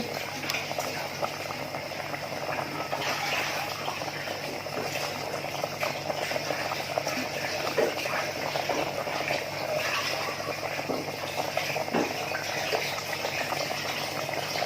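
A pot of Thai-Lao bamboo shoot curry with pork and mushrooms boils steadily at close range, a continuous bubbling and sputtering with no talk over it.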